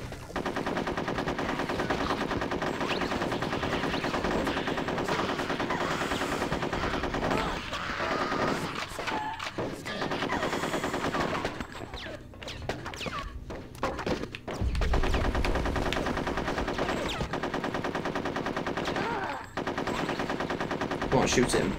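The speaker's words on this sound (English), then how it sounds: "And there's more shooting at me." Sustained, rapid gunfire aimed at the player in Conker's Bad Fur Day: dense automatic bursts and shots with thuds, loud and nearly continuous, with short gaps, and a voice talking at times.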